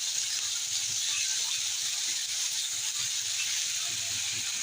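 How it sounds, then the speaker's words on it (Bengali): Onion paste frying in a pan, a steady close sizzle and hiss of hot oil running evenly throughout with no talk over it. "পেঁয়াজ বাটাটা একটু ভেজে নেব।"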